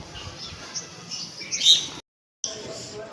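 Small birds chirp in short bursts over a faint, busy outdoor background, with a brief dropout near the end.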